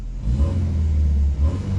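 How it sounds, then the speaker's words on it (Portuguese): A classic Volkswagen Passat TS gasoline engine revs, a loud, close, steady low rumble with slight surges, heard alone without voices. "olha o som clássico de Passat"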